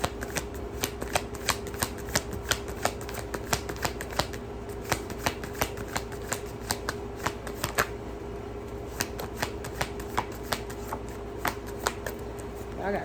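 Tarot cards shuffled by hand: a steady run of quick, light riffling flicks close to the mic, repeating through the whole stretch with faint background sound.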